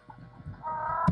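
Hen clucking in 102 Dalmatians: Puppies to the Rescue, on a farm, a short run of soft clucks building to a sustained cackle and a brief sharp note at the end, quiet.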